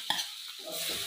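Lemons drop into a thick, sizzling chili-oil masala for lemon pickle. A sharp hit and splash sets off a burst of close frying hiss that keeps crackling briefly.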